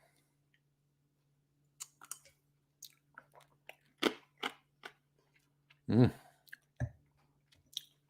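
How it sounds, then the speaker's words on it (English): Ice from a martini glass is chewed close up in a quiet room, making a series of sharp, irregular crunches and clicks with short pauses between them and a heavier crunch near the end. "a bit of ice in it, crunching the ice."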